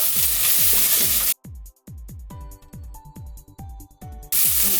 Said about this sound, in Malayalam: ഇഞ്ചി വെളുത്തുള്ളി പേസ്റ്റ് ഇത് നന്നായിട്ടൊന്ന് മൂപ്പിക്കാം